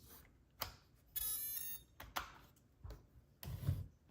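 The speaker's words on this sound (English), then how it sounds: "Let me stop that motor beeping" A high, thin electronic beep from an RC crawler's motor sounds once, surrounded by brief clicks and knocks from handling, fairly quiet overall.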